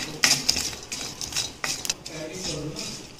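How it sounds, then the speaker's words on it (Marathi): Mace (javitri) dry-roasting in a pan for homemade Bhandari garam masala: light scraping and clinking of a spoon against the pan, several quick metallic taps over a soft background, fairly quiet. "आता आपण जाय जावेत्री किंवा जायपत्री भाजून घेत आहोत"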